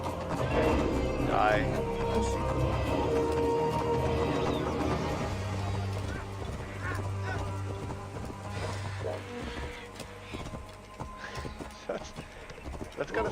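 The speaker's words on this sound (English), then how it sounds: "Oh, I have my getaway horse." Hooves clip-clop at a steady run beneath a busy Assassin's Creed Origins game soundscape, with someone talking over the top and a horse whinnying once.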